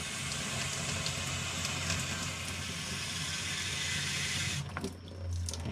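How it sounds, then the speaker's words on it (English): Water rushes steadily from an AQUASURE Harmony water softener during its rapid rinse cycle, a loud continuous flow that briefly dips near the end before resuming. "Doing the rapid rinse. You can see it coming out."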